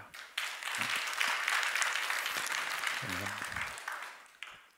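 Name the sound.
congregation applause in church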